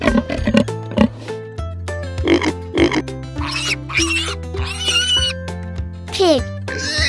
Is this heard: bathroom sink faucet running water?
no